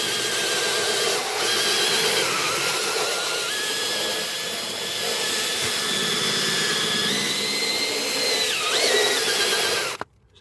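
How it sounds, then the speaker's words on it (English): A cordless drill fitted with a soft brush whirs steadily while cleaning the interior seals of a lease car during a basic valet, a loud, close whine that shifts in pitch slightly as it works, then stops abruptly near the end. "Let me just take a drill with a soft brush,"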